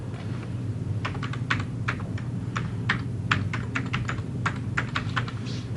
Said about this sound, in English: I'm just typing in the URL